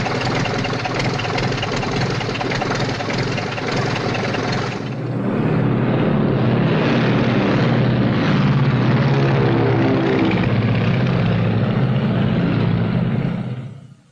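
Propeller airplane engine droning steadily at close range, then rising in pitch and power as the plane revs up for takeoff, holding a loud, sustained roar until it fades out at the very end.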